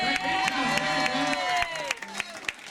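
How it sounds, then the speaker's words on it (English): A live crowd at an Irish country music show on a wedding boat cheers and claps for a singer, a dense burst of applause and shouts mixed with music and some voices, fading toward the end. "So give me one big round of applause on the wedding boat."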